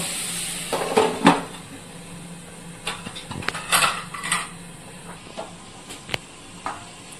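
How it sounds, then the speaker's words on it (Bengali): A metal lid clatters onto a pan of simmering chicken pieces, with several sharp clanks and scrapes over a quiet hiss of steam. "চিকেনটা সেদ্ধ হওয়ার জন্য আমি এটাকে ঢাকা দিয়ে দেবো।"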